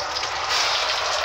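Rain falls outside as a steady, broadband hiss of drops pattering on surfaces, fairly loud and close, with no talking over it.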